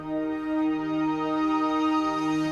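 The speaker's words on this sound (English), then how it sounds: "You'll hear the synthesizer padding throughout the song." Sustained synthesizer pad chord with steady layered tones, gently swelling in volume, alone without voices.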